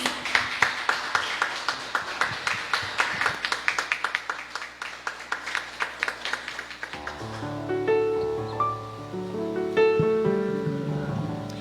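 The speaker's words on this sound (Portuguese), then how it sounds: "Vamos aplaudir a Jesus." A church congregation at a Thursday worship service claps in a steady rhythmic beat for several seconds, then the clapping gives way to swelling music with sustained instrumental tones.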